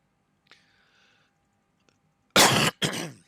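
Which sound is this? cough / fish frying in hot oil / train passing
cough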